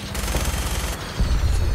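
Cars blowing up under gunfire in Fallout 4, a loud run of rapid shots and booming bursts that grows heavier near the end, with no talking.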